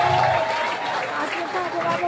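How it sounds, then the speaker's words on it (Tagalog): Applause from a crowd at a political senatorial rally, a continuous dense rustle of clapping with crowd noise, fairly loud and steady throughout. "Ang hina naman ang palakpak nyo!"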